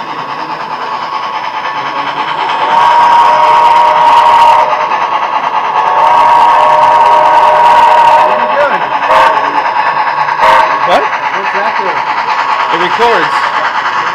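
A model train locomotive runs steadily at a train show, giving a continuous motor whine and rolling clatter with faint clicks, while people talk nearby throughout.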